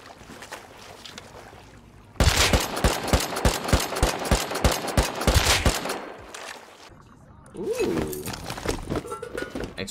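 Thompson submachine gun fire in a video game, a rapid burst of about a dozen evenly spaced, loud close shots lasting several seconds, followed by quieter game ambience.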